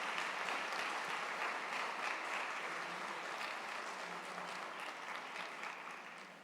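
A church congregation applauds loudly and steadily throughout, a dense wash of clapping that fades slightly toward the end, with no talk over it.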